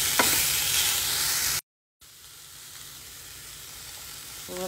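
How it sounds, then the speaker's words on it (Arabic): Vegetables and chicken sizzle and are stirred in a pan, a close, steady frying hiss with stirring scrapes, broken by a short silent cut before the quieter sizzle resumes. "نبغى الخضار تبذل كذا تاخذ حمصة خفيفة مع الدجاج"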